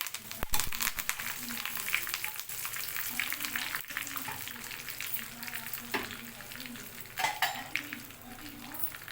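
Dried red chillies and curry leaves crackle and sizzle in hot oil for coconut chutney tempering, a close, busy frying sound with stirring scrapes and brief spatters, while a voice talks quietly.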